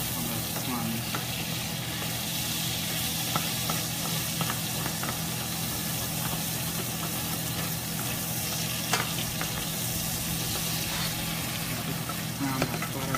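Butter browns and sizzles in a pan with plums, a dense, steady frying hiss that keeps up without pause, with occasional faint pops and scrapes of stirring.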